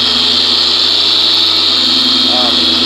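A Porter Cable polisher buffing the hood of a black 2014 GMC Sierra with a microfiber pad, a loud, steady, high-pitched motor whine that holds constant and close throughout.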